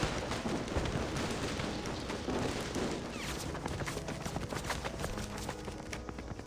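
Rapid gunfire in a Reverse: 1999 battle: dense, continuous crackling bursts of troops firing standard military weapons, loud and sustained throughout without any talk.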